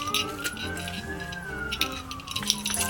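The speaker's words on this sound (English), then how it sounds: "We get so many sirens." A siren wails, rising slowly and then falling, amid steady background noise with scattered clatter; no one speaks.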